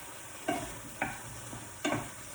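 A spoon stirs Thai green curry seasoned with fish sauce in a hot pan. Three or four distinct scraping strokes sound over a soft, steady sizzle, heard up close with no talking.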